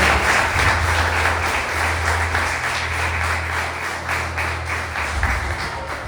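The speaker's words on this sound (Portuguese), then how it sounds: "Você pode aplaudir o Senhor por essa palavra?" A church congregation at a family worship service applauds steadily for several seconds, a loud, dense wash of clapping with a low hum running underneath.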